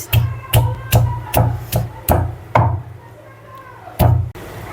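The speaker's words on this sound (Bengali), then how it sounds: "থেতো করে নিচ্ছি পেঁয়াজ" Onion is crushed by pounding for a meat dish, about nine heavy, evenly spaced thuds that each ring out briefly, with a short pause before the last strike, loud and close.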